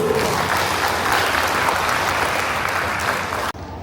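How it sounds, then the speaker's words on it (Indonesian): Loud, dense applause from the audience at a Christmas and New Year gathering, continuous and close for nearly four seconds, then cutting off abruptly. "Tepuk tangan buat semua dulu"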